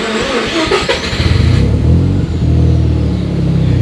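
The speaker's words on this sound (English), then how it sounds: "Starts right up, runs well, idle's nice." A Mazda RX-7 GT-R rotary engine, already warm, cranks and catches early on, then settles into a steady, loud, close idle with a smooth throb.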